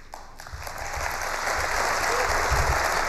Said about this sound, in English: Hey, one guy applauding.